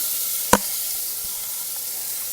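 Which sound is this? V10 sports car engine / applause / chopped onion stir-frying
chopped onion stir-frying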